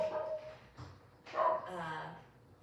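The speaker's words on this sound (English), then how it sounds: "The dogs are barking" Dogs bark and whimper in the background of a home podcast recording, a few soft, distant yips and whines rising and fading over low room noise.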